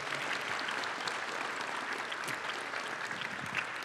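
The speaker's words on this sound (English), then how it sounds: "Give him a round of applause." A crowd at a summer program event applauds a guest, basketball player Sean Elliott, in a soft, steady patter of many hands heard from some distance.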